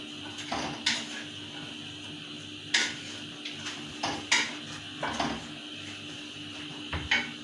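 A spoon scrapes and knocks against a pan while carrots and vegetables are mixed for chicken macaroni, sharp metallic clinks scattered irregularly over a quiet background.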